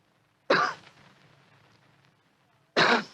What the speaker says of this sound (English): After a moment, he gave what he thought was a discreet cough.